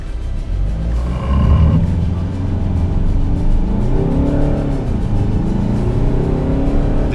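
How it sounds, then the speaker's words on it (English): Citroen C5 AirCross accelerating hard in eco mode on a road with slight dirt, with some wheel spin; a loud, steady engine and road roar builds and holds close by throughout, with no talking. "There was a bit of wheel spin, slight dirt on the road."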